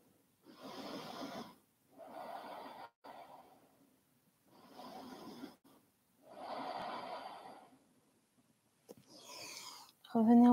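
Slow, deep breaths during a Vinyasa yoga class: several long inhale-exhale cycles, each a broad airy hiss lasting a second or two, separated by quiet pauses, close and fairly soft.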